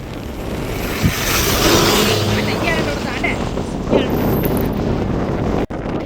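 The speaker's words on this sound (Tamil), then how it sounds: "பயங்கர காற்று" Strong wind roars and buffets the microphone steadily at an outdoor roadside site where a fuel tanker accident spilled diesel, loud and continuous with a couple of brief knocks.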